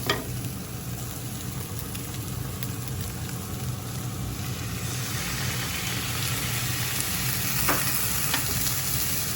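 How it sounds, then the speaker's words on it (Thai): Instant noodles stir-frying in a pan with fresh milk added, a steady close sizzle with the scrape and rustle of stirring running unbroken throughout, no voices. "เราก็เอามาผัด สูตรนี้นิดจะใช้นมสดเติมเข้าไปด้วยนะคะ"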